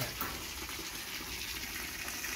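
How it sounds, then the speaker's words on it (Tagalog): Water from a well on a farm flows in a soft, steady gushing stream, fairly faint and continuous with no voices. "ang tubig niyan ay nanggagaling sa balon"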